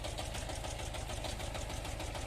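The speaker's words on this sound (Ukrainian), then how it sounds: "Тут їдеш одним пальчиком, трактор сам собі їде прямо." A tractor engine runs steadily with a dense, knocking mechanical drone, close and even throughout, with no talking.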